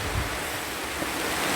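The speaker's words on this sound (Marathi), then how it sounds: "बघा कसा वाटतो पावसातून एकदम समुद्र." Sea waves and gusting wind during heavy monsoon rain on a foggy coast, a dense, continuous roar with low rumbling swells, heard close and alone without speech.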